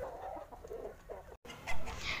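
Desi Golden Misri hens cluck and fuss in a rooftop coop, short close clucking notes coming in bursts with a brief gap, then a louder squawk near the end.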